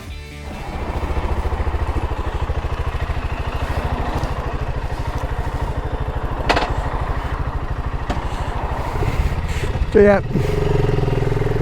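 A BSA Goldstar 650 motorcycle engine thumps steadily and close by at a constant pace, with a short rev near the end and someone speaking briefly over it.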